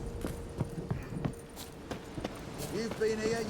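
Horse hooves clip-clop in an even walking rhythm in The Witcher video game, moderately close under ambient game sound, with voices speaking over the steps.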